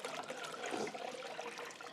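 Warm water poured into cold water to mix the two until lukewarm, a continuous close splashing trickle of liquid running steadily for the whole short stretch with no voices.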